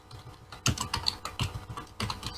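Code is typed on a computer keyboard in quick irregular bursts of close, crisp key clicks separated by short pauses, with no voices.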